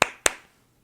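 Two sharp, close handclaps about a quarter second apart, crisp and isolated, ringing briefly before silence.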